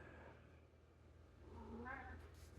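A house cat meows briefly in a quiet indoor room, a soft, close call rising near the end over low background noise.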